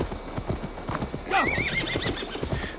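Horse in the video game Assassin's Creed Valhalla: steady rhythmic hoofbeats clip-clopping up close, then a loud, wavering neigh cutting in midway over the continuing steps.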